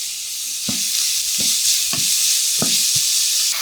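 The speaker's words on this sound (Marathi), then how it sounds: "कांदा घालूयात आणि हलकासा फक्त परतून घ्यायचा सोनेरी करायचा नाही" Chopped onion with salt sautéing lightly in a pan for veg pulao, a steady sizzle broken by about five soft stirring scrapes at an uneven rhythm, close and fairly loud.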